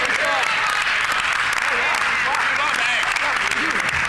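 Applause fills the Manitoba legislature chamber, a steady dense clatter of many hands throughout, with a voice faintly audible beneath it.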